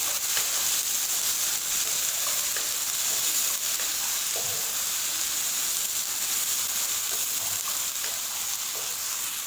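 Finely chopped tomatoes fry in a pan for an arvi (taro root) curry, giving a steady, loud, hissing sizzle that runs unbroken throughout, with no voices.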